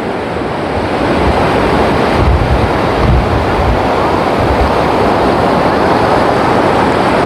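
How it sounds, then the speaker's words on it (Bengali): Sea waves crash and roar continuously on Puri's Swargadwar beach, a steady broadband surf with gusts of wind noise on the microphone and no voices. "ও হেভি ঢেউ আসছে, ফাটাফাটি ঢেউ আসছে"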